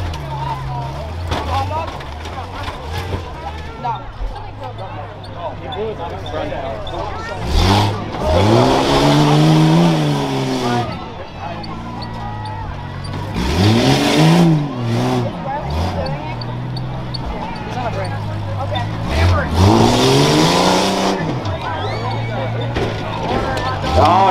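Rough trucks race around a dirt track at a county fair, their engines surging and revving in repeated bursts as each truck charges toward the final jump, with an announcer talking over the motor noise throughout.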